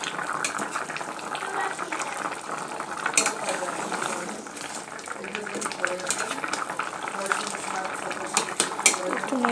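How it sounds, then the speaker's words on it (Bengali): A fish curry bubbles in a pot while a utensil stirs it, giving steady frying and simmering noise with scattered scrapes and clinks against the metal, close and continuous. "একটু নেড়ে দিলাম, এখনো হয়নি, ঝোলটা আর একটু আটাবে"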